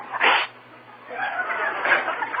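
A single loud sneeze burst at the start, followed by a stretch of chuckling and chatter from people nearby on a radio broadcast.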